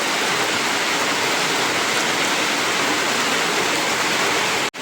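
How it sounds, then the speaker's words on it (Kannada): Heavy rain pours steadily at a temple, a loud and even hiss of water on surfaces that continues without a break until it cuts off abruptly at the end. "ಇಲ್ಲಿ ಜೋರು ಮಳೆ ಬರ್ತಾ ಉಂಟು."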